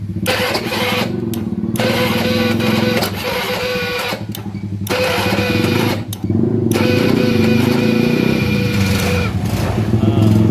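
A carbureted Honda Beat scooter with a starting fault is cranked until its small engine runs, giving a loud, steady, close-up drone with a few brief dips.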